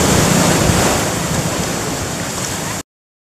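Ocean surf rolling onto Santolo beach in Indonesia, a loud continuous wash of breaking waves with steady wind noise, close and unbroken for nearly three seconds before cutting off.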